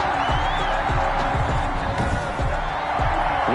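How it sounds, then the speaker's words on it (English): Crowd noise in an NFL video game after a 56-yard field goal, a broad, steady roar of cheering under a commentator's voice, with a few sharp thuds. "you can hear the crowd react"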